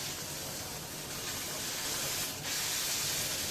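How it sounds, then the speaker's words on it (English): Wild venison sears in a hot pan with a steady, close sizzling hiss that swells slightly toward the end, heard alone without talk. "browning the meat"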